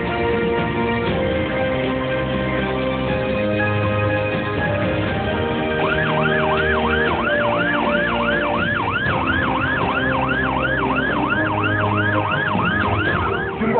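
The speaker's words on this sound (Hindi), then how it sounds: "सायरन ऑन है।" An ambulance siren wails loudly and continuously in traffic, its rapid yelping sweeps repeating steadily through the second half over a dense background of road and engine noise.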